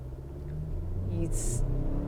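A 2023 GAC GS8 pulling away hard from a standstill on a hill, its low engine rumble building steadily from close inside the cabin, with a brief sharp hiss partway through and a voice talking under it.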